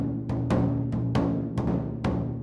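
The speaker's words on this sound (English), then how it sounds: "That is the sound of the taiko, Japan's traditional drum." Taiko, the traditional Japanese drum, struck in a steady pattern of about seven deep, resonant beats, each ringing out and decaying before the next, over a low sustained rumble.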